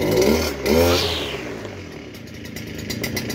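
A brush cutter's small two-stroke engine revs up sharply when accelerated, its whine climbing and then easing back to a buzzing idle, loud and close with no talking.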